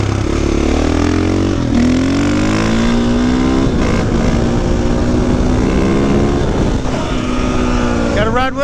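A 2022 KTM EXC 500 dirt bike engine revs loud and close, its pitch climbing and holding through continuous acceleration.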